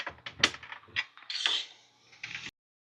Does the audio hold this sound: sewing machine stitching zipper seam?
yes